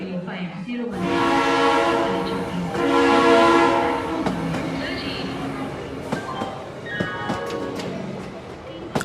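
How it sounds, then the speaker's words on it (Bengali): A train sounds a long whistle and then begins to roll slowly, used as a sound effect. The sustained whistle blasts come first, then sparse clicks and clanks of the wheels starting to turn, all fairly loud. "দীর্ঘ এক হুইসেল দিয়ে ট্রেনটা ধীরে ধীরে চাকা ঘোরাতে শুরু করলো।"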